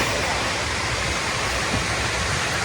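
A waterfall in Meghalaya, Northeast India, roars as a loud, dense, steady rush of water close by, with no voices.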